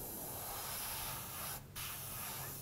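Close, steady hiss of an aerosol spray can painting through a stencil on custom Vans shoes, held with two hands near a small border; the spray runs continuously with one brief pause midway.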